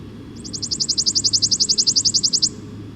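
A male chipping sparrow sings a long, dry, mechanical trill of rapid, evenly spaced chips, about twenty notes in a steady run lasting two seconds, clear and fairly close over a low background rumble.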